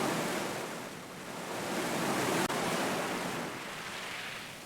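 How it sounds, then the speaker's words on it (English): Ocean waves crash on a beach at night, a steady, loud wash of surf that swells and eases over several seconds, with no voices. "the sound of crashing waves calling to me like a siren's song"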